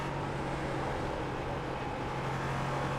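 LMP3 prototype race car engine in iRacing on a rain-soaked Suzuka circuit, a steady loud drone with constant tonal hum and no clear revving or gear changes.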